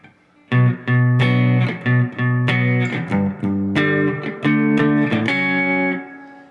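A distorted electric guitar plays part 1 of the bridge at real speed, a loud sequence of chunky, sustained chords and notes in short phrases with brief gaps, heard alone without talk.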